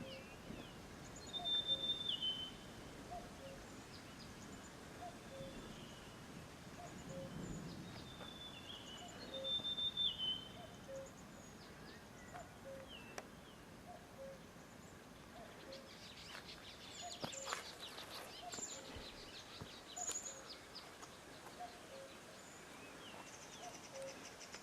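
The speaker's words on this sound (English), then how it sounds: "I like the sounds of the birds." Faint bird chirps and short calls sound now and then over a quiet outdoor hush in Nepal as rain approaches, with soft rustling and a few low rumbles.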